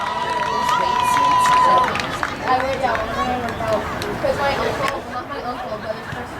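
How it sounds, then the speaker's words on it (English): A crowd at a lacrosse game between WLA and CWC reacts with loud, sustained cheering and chatter, close and full, fading into a general hubbub with a whistle tone early on. "Crowd loves it."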